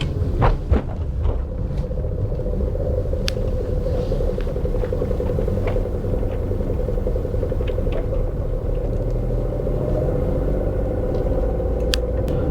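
A Maruti Alto 800 car climbing the steep, hairpin-laden Kaksang La pass in Ladakh, its small engine a steady low droning rumble heard from inside, continuous and fairly loud with no talk.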